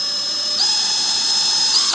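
A power drill runs briefly on a test spin after a bit is tightened, a steady high-pitched whine that rises slightly in pitch partway through and then cuts off, heard close and alone.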